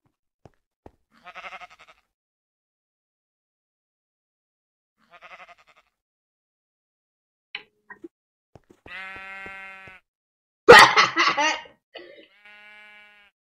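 Sheep bleating in a video game, several separate short bleats spaced across a mostly silent stretch, with a louder, harsher bleat near the end followed by fainter ones, no talking.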